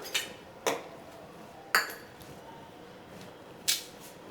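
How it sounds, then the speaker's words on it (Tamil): Chopped ash gourd pieces drop into a steel pressure cooker in a home kitchen, giving four sharp, separate metallic clinks with quiet gaps between them and no talking. "அதில் வந்து நம்ம காயெல்லாம் போட்டுடலாம்."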